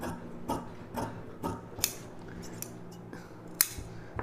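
Scissors cut boat neck silk saree blouse fabric, a series of crisp snipping clicks spaced about half a second apart, close and fairly quiet, with a couple of sharper metallic snaps.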